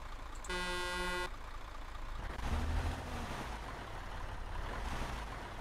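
A loud truck horn from Euro Truck Simulator sounded inside the Arma video game, one sustained blast of under a second, followed by a low vehicle rumble and a noisy washing background.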